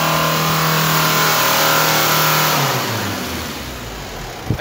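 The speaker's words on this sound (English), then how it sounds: "The engine revving that high." An old high-mileage minivan's diesel engine is held at very high revs, a loud, steady, strained roar close by that eases slightly toward the end before a brief knock, with no talk.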